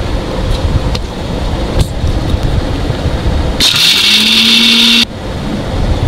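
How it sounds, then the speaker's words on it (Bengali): An electric blender grinding nuts runs in one brief, loud, whining burst that rises in pitch, then stops sharply against steady background noise. "আমার বাদামগুলো ব্লেন্ডার করা হয়ে গেছে।"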